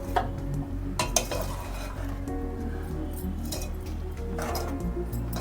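A spoon stirs bajji batter with chopped coriander in a metal bowl, producing close, continuous scraping and wet mixing with occasional sharp clinks against the rim.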